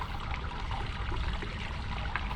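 Water poured from a bucket over a bather in a traditional Japanese mountain ryokan bath, a soft continuous splashing and trickling, fairly quiet and steady with no voices.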